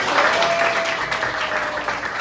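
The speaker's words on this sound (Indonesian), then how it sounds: "Tepuk tangan buat anak-anak." Classroom applause for children from a group of pupils, brisk, dense clapping that stays fairly even for a couple of seconds with no talk over it.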